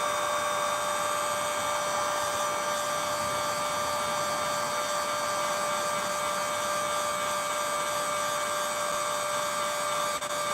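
Heat gun running on high while drying paint on a Jason Voorhees costume, a steady, close whining blower hum with a constant tone throughout.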